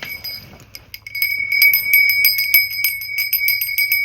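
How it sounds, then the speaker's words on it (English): A hand bell rung repeatedly in a steady, bright, loud ringing that starts after a brief quiet moment and continues without talk. "He said, ring the bell."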